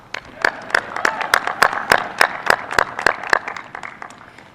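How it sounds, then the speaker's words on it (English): Audience at an Air Force Academy class of 2020 graduation ceremony giving a round of applause, a sparse, steady run of distinct nearby claps over about four seconds that fades at the end, no voices. "Another round of applause,"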